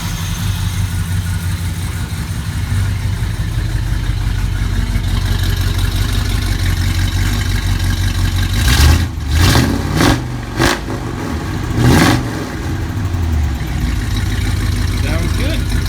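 A car engine idles steadily with a low rumble, then revs in several sharp bursts before settling back to a running idle.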